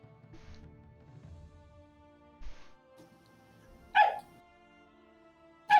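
A dog barks twice, sharp and fairly close, a couple of seconds apart, against a quiet background of soft low rumbling and faint noise.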